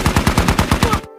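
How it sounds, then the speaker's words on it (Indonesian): Rapid automatic gunfire from a battle scene in the 2021 film Cherry, about ten loud evenly spaced bursts in a fast rhythm over a little more than a second, cutting off abruptly. "Saat tiba di sana, Nico terlihat panik karena kondisi baku tembak yang sedang berlangsung"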